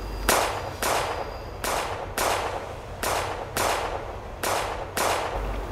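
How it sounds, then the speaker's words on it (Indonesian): Rapid gunfire sound effects in a roleplay, a steady series of about eight sharp, loud bursts spaced under a second apart, each followed by a brief crackling decay, with no talking. "Udah ayo mulai tembak."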